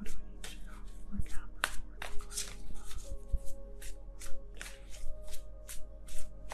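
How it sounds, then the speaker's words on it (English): Tarot cards are shuffled by hand in quick, crisp riffling bursts, with faint talk in the background. "One more shuffle."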